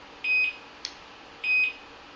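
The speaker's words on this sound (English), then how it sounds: "what you hear is one of my perimeter alarms going off" An electronic alarm sounds two short pairs of steady high beeps about a second apart, with a brief click between them, in an otherwise quiet room.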